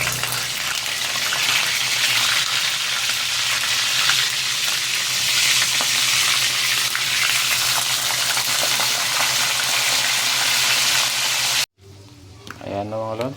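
Food fries in a pan while eggplant salad is being made, a loud, close, continuous sizzle that cuts off near the end as a person starts talking.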